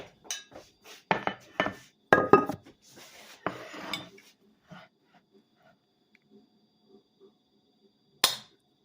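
A Grohmann knife scraping butter from a ceramic butter dish: a string of close clinks and scrapes of metal on ceramic in quick bursts, then mostly quiet with faint taps and one last sharp clink.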